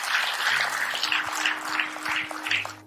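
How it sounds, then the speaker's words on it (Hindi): Audience applause at a business seminar or company presentation, steady clapping from a crowd lasting about three seconds, fairly loud and continuous with a faint low hum underneath. "एक जोरदार तालियां होनी चाहिए।"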